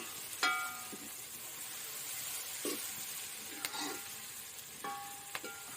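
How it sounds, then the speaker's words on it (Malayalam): Curry leaves sauté in a pan with a soft, faint sizzle, broken by a few sharp crackles and the light scrape of stirring. "അപ്പോൾ അതിലേക്ക് നമ്മൾ കറിവേപ്പില ചേർത്ത് ഒന്നുകൂടി ഒന്ന് വഴറ്റിയെടുക്കുക."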